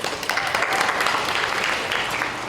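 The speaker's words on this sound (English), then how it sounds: "Let's clap him up." An audience gives a steady, dense round of applause for Congressman Jesse Jackson Jr., filling the room evenly and close, with no talk over it.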